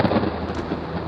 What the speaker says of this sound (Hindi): बाहर बिजली कड़क रही थी